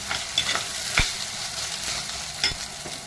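Tomatoes sautéed and stirred in a pan for a prawn kuzhambu: a close, continuous sizzle broken by a few sharp scraping stirs.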